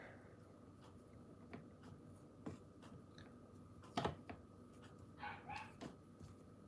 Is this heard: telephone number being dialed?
no